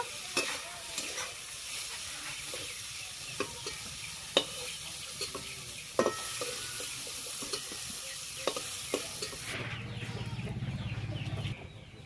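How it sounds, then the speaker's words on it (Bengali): Cauliflower florets frying in hot oil in a pan, giving a steady close sizzle broken by sharp clinks and scrapes of stirring, with the hiss swelling louder near the end. "ফুলকপিগুলো লাল লাল করে ভেজে নিয়েছি, এবার আমি তুলে নেব।"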